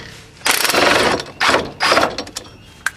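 An impact wrench drives a wheel stud into the front hub of a 2.2L Chevy Cobalt, loud close rattling bursts in three main hammering runs separated by short pauses.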